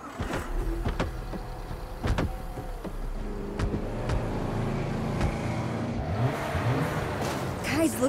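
A car engine in the Saints Row video game (2022) rumbles low with a few revving swells, mixed with clicks and character voices talking over it.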